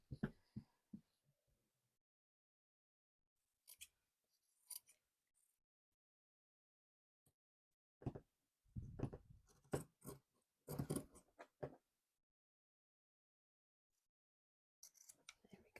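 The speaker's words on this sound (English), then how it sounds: "And we're going to cut the sleeve off." Scissors cutting the sleeve off a flannel shirt during a sewing upcycle, heard as short crisp snips in irregular clusters with quiet pauses between them, close and fairly faint.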